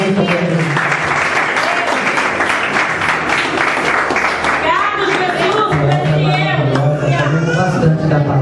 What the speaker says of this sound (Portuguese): E uma salva de palmas que louva o Senhor.